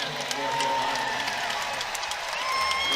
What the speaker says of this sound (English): This crowd starting to get into the ball game as well.